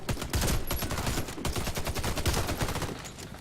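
Rapid bursts of gunfire in a survival video game, a dense stream of sharp cracking shots firing almost continuously at close range with no pauses.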